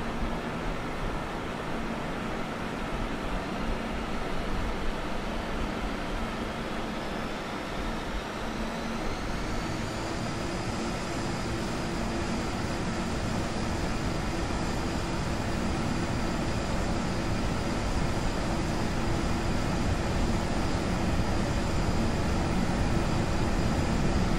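An Embraer ERJ-145LR jet rolls for takeoff in a flight simulator, its engine roar swelling as a steady broadband rush while a rising whine climbs partway through and holds, loud and continuous with no talk.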